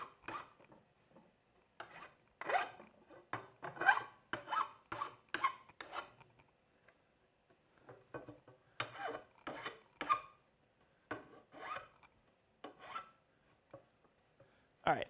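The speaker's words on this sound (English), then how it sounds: "so let me grab a file" A metal file rasps a burr off an edge in repeated short strokes, each a scratchy rub, in clustered bursts separated by quiet gaps, close and clear with no talk.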